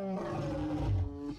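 A bear in a battle-royale shooter game lets out a loud, close, drawn-out growling roar lasting over a second, heard alone without talk.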